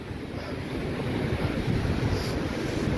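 A cold mountain waterfall on the Rupin Pass trek rushes in a constant, loud, broad roar, with wind buffeting the mic on top and no break in the flow.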